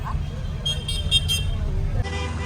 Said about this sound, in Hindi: शाम का टाइम है, मार्केट ट्रैफिक बहुत ज़्यादा है।